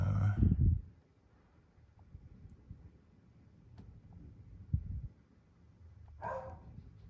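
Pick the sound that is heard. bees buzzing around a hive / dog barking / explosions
dog barking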